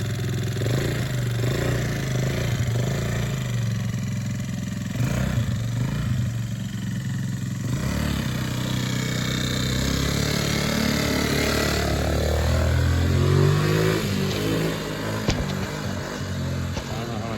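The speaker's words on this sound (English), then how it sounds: "it's a scooter motor" A small scooter engine on a Chinese ATV idles steadily with a low, rattling putter, revving slightly near the end, close and fairly loud throughout.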